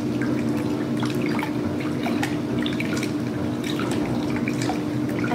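Hands swish and splash in a basin of water before handwashing, a close, continuous watery sloshing with small drips and trickles.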